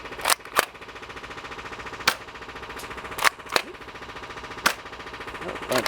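A foam dart blaster from the Nerf DinoSquad Raptor-Slash line fires darts in sharp, close snaps at uneven intervals, with a faint continuous mechanical whir running between the shots.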